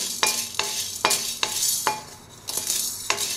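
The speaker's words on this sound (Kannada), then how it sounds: "ಚೆನ್ನಾಗಿ ಹುರ್ಕೊಬೇಕು ಘಮ ಬರೋದಂತ" Spices dry-roasting in a pan for sambar powder, a dry rustling hiss broken by regular scraping strokes of a spatula about every half second, close and moderately loud with no voices.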